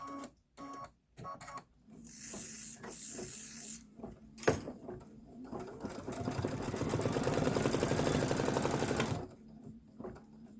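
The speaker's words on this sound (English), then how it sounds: "I am going to give it a little shot of spray from behind." A spray can of adhesive hisses steadily for several seconds onto fabric at a sewing and quilting table. It comes after a few short clicks and a sharp tap, close and moderately loud, with no talk.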